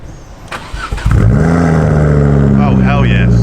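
A Ford Focus ST500 MK2 tuned to 340 BHP cranks over with a few sharp bursts, then catches and settles into a loud, steady, throaty idle close by, with voices talking over it near the end.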